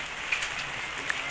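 Rain falls and patters on surfaces outdoors, a steady close hiss with a couple of sharper drips standing out.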